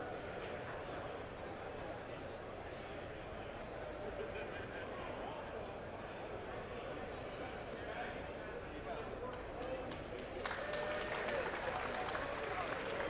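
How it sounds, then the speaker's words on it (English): Scattered applause from a distant event finishing in a busy Star Wars Legion tournament hall, a soft continuous patter of clapping under steady crowd murmur and nearby talk, swelling slightly toward the end. "That's the clapping that you're hearing."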